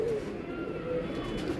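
Pigeon cooing from a large domestic breeding pigeon, a steady low murmuring coo that continues nearby through the whole short stretch without any talk.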